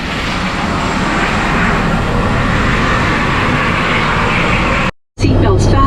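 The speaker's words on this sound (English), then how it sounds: "This is the quietest helicopter of its class in the world." A helicopter engine runs steadily and loudly on the ground before a sightseeing flight over Niagara Falls, a broad continuous roar that cuts out briefly near the end and then returns.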